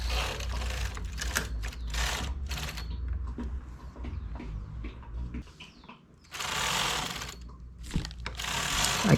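A knitting machine works the neckline finish of a tank top, its carriage sliding across with loud raspy ratcheting and clacking in long sweeps separated by brief quieter gaps, close and continuous without talking.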